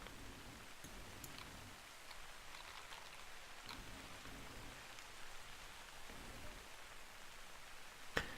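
Rain in the hunting video game theHunter, a faint, steady hiss of falling rain with occasional soft drop ticks and one brief tap near the end, quiet and without speech.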